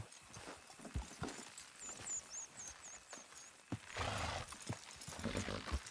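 Horses in Red Dead Redemption 2 plod and clop over loose ground while pulling, with faint high whistling and scattered shouts in a busy outdoor scene.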